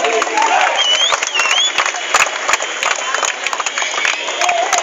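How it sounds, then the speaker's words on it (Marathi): A crowd applauding at a Govinda troupe event for the 2013 Shri Mahalingeshwar Govinda pathak: steady, dense clapping and cheering fill the whole stretch, with whistles and voices mixed into the noise. "टाळ्या वाजून"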